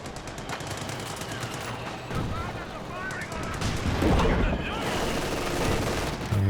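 In a Company of Heroes 2 battle, dense overlapping gunfire crackles and rattles throughout, with heavier booming impacts from incoming base howitzer artillery building toward the middle of the stretch.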